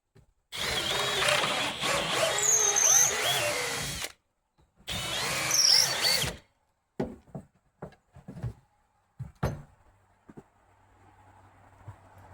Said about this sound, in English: line them both back up and drill them